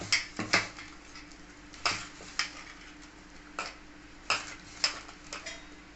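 Soft, intermittent slaps and squelches of poha (flattened rice) dough being kneaded by hand with small additions of water, close and quiet, with scattered clicks of a bowl or utensil and no talk.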